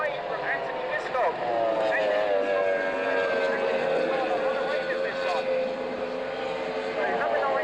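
Formula 2 racing powerboat roaring past during a race at Fairford, a continuous loud droning engine whine with shifting pitch, heard under a commentator's voice.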